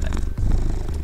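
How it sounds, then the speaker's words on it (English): A cat purrs steadily in a video game, a continuous low rumbling purr heard up close with no talk over it. "It's a cat."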